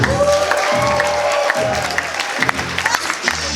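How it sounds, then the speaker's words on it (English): An audience at a general meeting applauds the models, a steady wash of clapping mixed with a few cheers and tonal sounds in the background. "Let's give our models a big round of applause."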